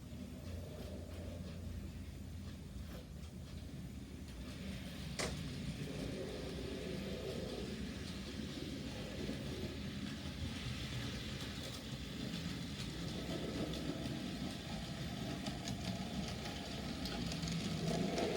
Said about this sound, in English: My lovely little pannier tank engine with two Western Region suburban coaches and a siphon van at the rear.